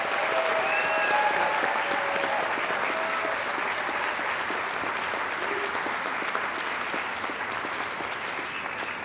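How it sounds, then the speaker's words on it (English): A large crowd at an engineering graduation ceremony claps in sustained, enthusiastic applause that holds steady for several seconds before easing slightly. "I would love to do one more great big round of applause for our graduates."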